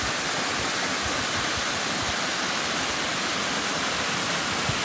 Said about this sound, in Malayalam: പ്രകൃതി സ്നേഹികളുടെ മനം നിറച്ച് ഒഴുകുകയാണ് കടങ്ങോട് മല്ലൻകുഴി നീർച്ചോല